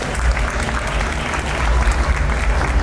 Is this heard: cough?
no